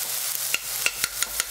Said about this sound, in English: After stir frying the pork for about a minute